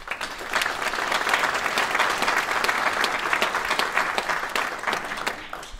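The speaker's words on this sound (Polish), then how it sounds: "bardzo proszę o wielkie oklaski dla pierwszego przewodniczącego Rady Miejskiej" An indoor audience at a Świdnica civic gathering claps steadily for the first chairman of the city council, with dense, sustained applause that holds at an even level for several seconds before tapering slightly.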